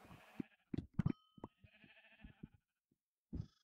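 Sheep in the Minecraft video game bleat in several short, separate calls across a quiet stretch, clear and close with gaps of silence between them.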